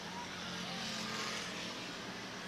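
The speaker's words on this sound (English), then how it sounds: "Here comes your race leader, Ferguson." A race car approaches on an oval track during a 1995 stock car race, its engine a faint, steady roar that swells slightly midway through.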